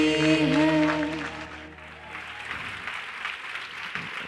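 An audience at a scripture lecture breaks into applause, a short burst of clapping that follows a sung or chanted verse and then carries on at moderate level.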